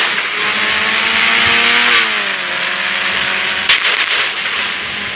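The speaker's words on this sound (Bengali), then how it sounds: "আর বাইকটা ছুঁড়ে ফেলে দিলাম কারণ সেটা ব্লাস্ট হতে যাচ্ছে, এখনই হয়ে যাবে ব্লাস্ট।" Motorbike explosion in the Indian Bike Driving 3D mobile game: a revving engine tone gives way to a loud, crackling burst, then a sharp blast near the end, with no talking.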